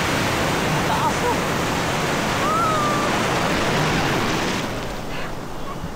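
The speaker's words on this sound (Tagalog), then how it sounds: "Ah, taas ng alon no?" High ocean waves crash on a New Zealand shore, a loud, continuous roaring wash of surf that swells and eases slightly, heard close with a voice faintly mixed in.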